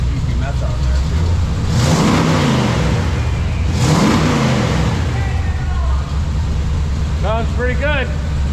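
A tow truck fitted with an upgraded EFI system revs its engine in two strong throttle blips over a steady loud idle, with people talking over it throughout.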